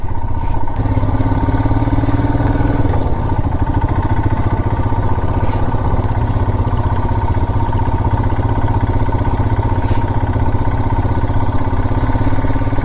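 Steady, loud motorcycle engine hum runs unbroken for the whole stretch on a long road ride toward Amroha via Delhi, close-up and alone with no talk.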